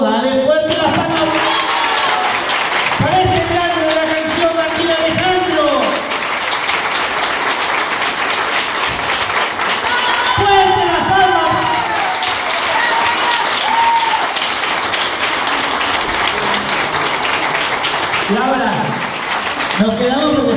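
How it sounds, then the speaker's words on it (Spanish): Guests at a birthday party clap and cheer after the candles are blown out, a dense, continuous burst of applause with voices calling out and talking close by throughout. "Dale fuerte las palmas."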